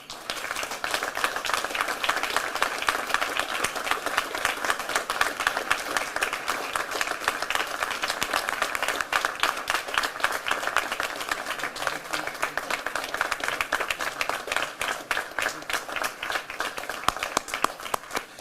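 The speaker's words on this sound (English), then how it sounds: "give Master Police Officer Gail Carabecca a round of applause for being the first female officer in DeKalb County, Georgia's history" Sustained applause from a crowd at a DeKalb County Police press conference honoring Georgia's first female officer, dense steady clapping filling the room for the full stretch without letting up.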